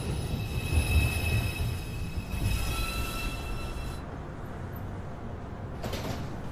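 A New York City subway 2 train pulls into 215th Street station, a loud rumble of wheels on rails with sustained high metallic squeals that fade as the train slows, then a brief clatter near the end.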